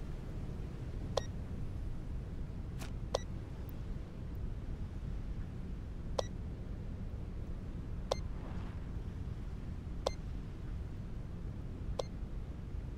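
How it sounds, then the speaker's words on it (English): Sharp, isolated electronic beeps in the video game Into the Radius 2, about seven short tones spaced a second or two apart over a faint steady ambient hum, with no talk. "What the hell was that beep?"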